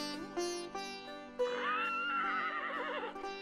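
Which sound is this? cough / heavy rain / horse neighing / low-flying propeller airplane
horse neighing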